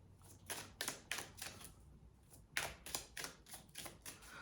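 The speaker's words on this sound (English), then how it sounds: "I'm going to do a final shuffle" Tarot cards are shuffled up close, a quick series of crisp riffling, flicking clicks in two rhythmic runs with a brief pause between them, fairly quiet and without voices.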